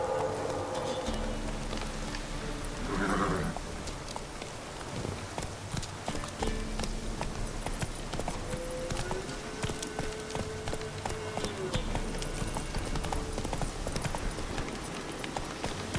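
Rhythmic clip-clop of horse hooves galloping in The Witcher 3, a steady close patter over a low ambient bed, with a brief voice-like burst early on.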